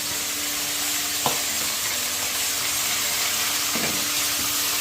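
Spinach and rice are stirred in a pan over a loud, continuous sizzle, with a couple of sharp utensil knocks against the pan partway through.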